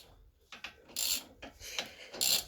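A ratchet wrench clicks and rasps while unscrewing front brake parts during a Brembo disc and pad change, several short close bursts of ratcheting with quiet gaps.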